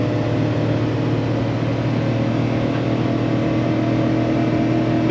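Chevrolet 6.0 V8 engine of a 2012 Freelander 21QB 24-foot Class C motorhome, heard from inside as a loud, steady droning hum while the engine runs and accelerates, with no talking.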